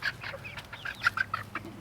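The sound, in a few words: Americana Easter egger chicken hens clucking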